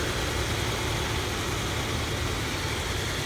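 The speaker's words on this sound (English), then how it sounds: "You'll notice that it has the hybrid engine right here." A 2014 Hyundai Sonata Hybrid engine idles with a steady, broadband hum and low rumble, close and constant for a few seconds, with no voices.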